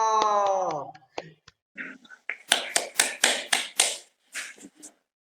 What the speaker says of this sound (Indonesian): Tepuk tangan buat Mas Handoko